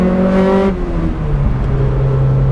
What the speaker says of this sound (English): I'm flooring it right now.